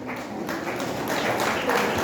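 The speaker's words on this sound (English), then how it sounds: "I like how for each student a different section of the audience claps" Audience applause for a junior-category award winner at a ceremony, a steady continuous wash of clapping from one section of the crowd that swells slightly toward the end, with no talk over it.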